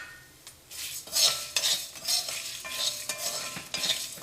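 Coriander seeds roast in a pan with urad dal and fenugreek for Kerala sambar, stirred in a run of close, crisp scraping strokes that rise and fall over a soft sizzle, with no talking.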